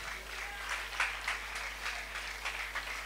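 A church congregation clapping during a sermon, steady crowd applause for a few seconds with soft individual claps rising from the mass.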